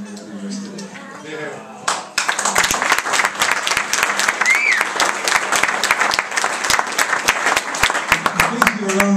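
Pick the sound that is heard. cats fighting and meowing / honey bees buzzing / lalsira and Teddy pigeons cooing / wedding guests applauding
wedding guests applauding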